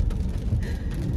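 Steady rain pouring during a thunderstorm, a dense continuous hiss and low rumble with no voices.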